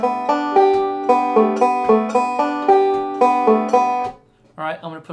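A banjo picks a quick, bright rolling verse-fill lick of evenly spaced plucked notes, close and clear, then a short spoken phrase at the end.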